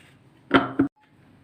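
A food processor gives two short, close pulses, about a second apart, as it chops onion, garlic and tomatoes for çiğ köfte.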